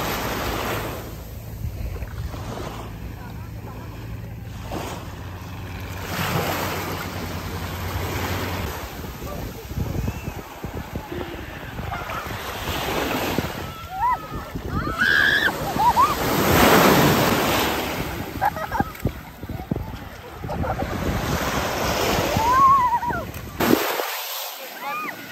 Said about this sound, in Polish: Dzisiaj morze rano trochę wzburzone.